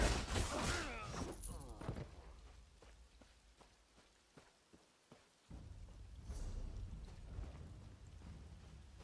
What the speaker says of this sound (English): Just raining.